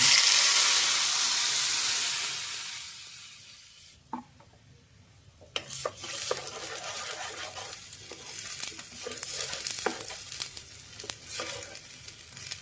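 Loud sizzling of coconut chutney tempered with mustard seeds in a hot pan dies down, then returns with stirring scrapes and crackles as the frying continues, close and steady.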